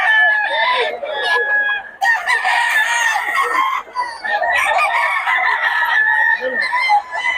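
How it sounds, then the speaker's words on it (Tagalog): Roosters crow and cluck in a loud, close chorus, several birds overlapping with long crows and short clucks throughout. "Solid ang mga manok ng Boss Tony"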